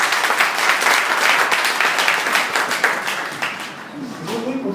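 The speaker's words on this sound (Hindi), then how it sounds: "आइए यीशु मसीह के लिए तालियां बजाएंगे।" A church congregation claps for Jesus Christ during a Hindi-language sermon, sustained applause that softens toward the end while voices carry in the background.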